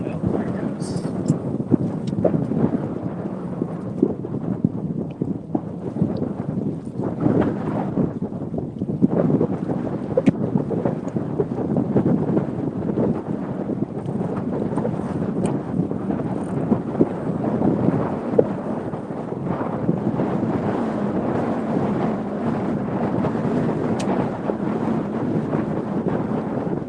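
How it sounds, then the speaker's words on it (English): Strong wind on the Tennessee River on a cold day, a constant rough buffeting roar with gusty rumbling against the microphone, steady and fairly loud throughout. "Wind's really picking up right now."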